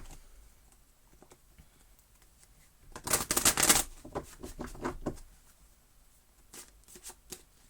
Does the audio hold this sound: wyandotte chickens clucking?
no